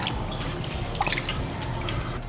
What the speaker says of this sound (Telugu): ఒక బౌల్లో 300 గ్రామ్స్ రైస్ తీసుకొని ఇందులో కొన్ని వాటర్ పోసుకొని బాగా క్లీన్ చేసుకుందాం